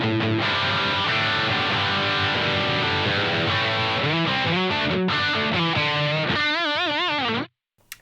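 An electric guitar runs through a Boss SY-1000 amp model with the gain switch on high. Sustained distorted chords ring out, then bent, wavering notes, before the sound cuts off abruptly near the end.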